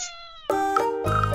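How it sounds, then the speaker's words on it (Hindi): A cat gives a couple of clear meows, close and fairly loud, with a thin tone at the start and a fuller, drawn-out cry after it. "कैट"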